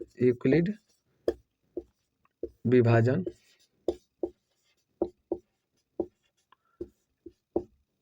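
Writing on a board during a class 10 maths lesson makes a series of short, crisp taps and strokes at a loose, regular pace, with brief bursts of a voice between them.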